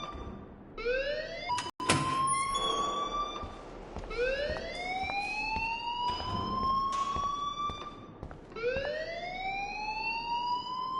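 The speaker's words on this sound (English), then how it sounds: "please turn off that alarm since that's your job" An alarm rings in the Life Is Strange video game: a loud, wailing siren tone that sweeps upward and repeats about three times in steady cycles, with no talking over it.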